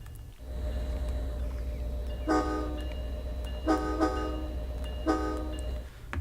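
A locomotive bell rings on an American train in Train Sim World 2, Northeast Corridor Boston Sprinter, in three evenly spaced bursts of bright metallic clangs over a steady low rumble of the moving train.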